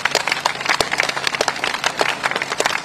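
Audience applause at a Commonwealth Day ceremony for the Commonwealth Children's Choir, a steady patter of many hands clapping, moderately close and even with scattered sharper claps, no talking.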